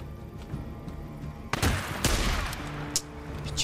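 Gunfire bursts in the Days Gone survival game, with a sharp shot cracking in around midway and more loud volleys and scattered shots following over a low ambient rumble.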